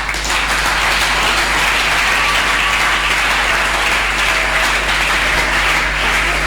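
A church congregation bursts into dense, continuous applause that stays loud and even throughout, with no break and no talking over it.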